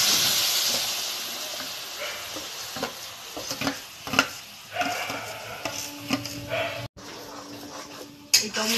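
Tomato paste sizzles and hisses steadily in mustard oil in a pan, with a spoon scraping and stirring through it up close; a brief dropout occurs near the end.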